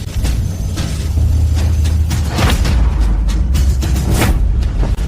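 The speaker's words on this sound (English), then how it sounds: "True fire burns the zombie." A magical burst of Samadhi true fire burning a zombie: a loud, sustained roaring rumble with crackling, whooshing flares rising through it for several seconds.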